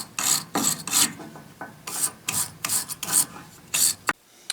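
Heads of fasteners stuck in the gib of a Yates American B244 being cleaned up by hand, a series of rhythmic rasping file strokes, close and fairly loud, roughly two per second.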